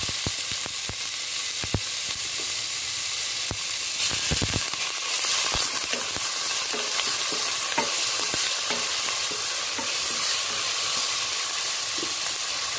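Ginger and onion sizzle steadily in a hot frying pan, a dense continuous hiss with occasional sharp clicks and scrapes as they are stirred.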